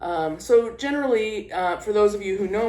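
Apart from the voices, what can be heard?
No everyday noises stand out.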